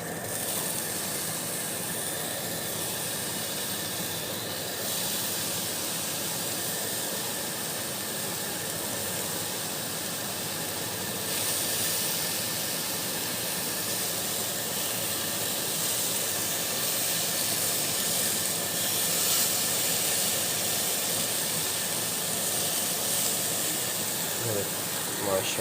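Desi kebabs frying in a pan for kadhi kebab, giving a steady, continuous hiss and sizzle that runs unbroken at an even level throughout.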